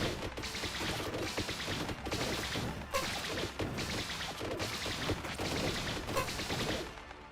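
Mortar fire in a Warhammer video game: repeated heavy blasts and crashes in irregular bursts, loud and close over a dense battle din, with no speech.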